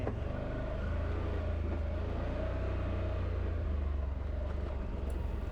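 An ATV engine in high gear on a smooth trail, a steady loud rumbling drone that holds evenly throughout with no pauses, and no one talking over it.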